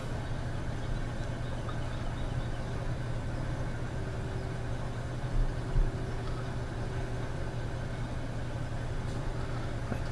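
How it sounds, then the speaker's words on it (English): Tractor engine idling steadily in Farming Simulator 17 on the Lawfolds, Aberdeenshire map, a continuous low droning hum with no speech over it. "I do like this tractor."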